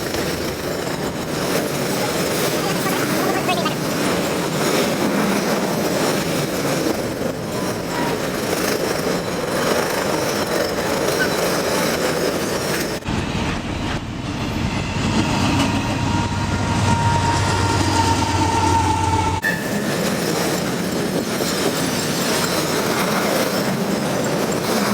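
Canadian Pacific freight train passing close by with a steady, loud rolling rumble of railcars and wheels, broken by a brief high squeal partway through, and no voices.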